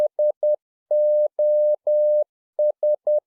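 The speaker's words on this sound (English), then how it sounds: "the Morse code sounds are like," Morse code SOS as clean electronic tones: three short beeps, three long beeps, three short beeps, evenly spaced and alone in silence.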